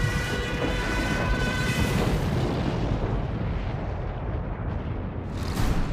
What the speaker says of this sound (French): Les explosions, un bruit de tonnerre.